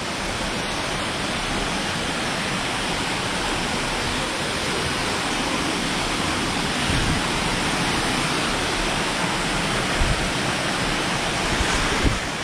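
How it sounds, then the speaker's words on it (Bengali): A waterfall in Purulia roars as a broad, continuous rush of falling water, loud and unbroken throughout with no talking. "এই যে সেই ঝর্ণাটা দেখো কি সুন্দর জল আসছে উপর থেকে"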